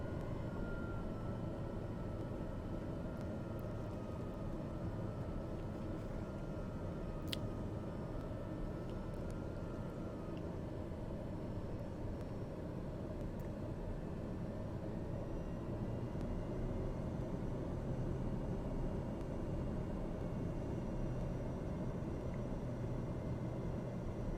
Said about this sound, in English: Reduce the power, drop the gear, drop some flaps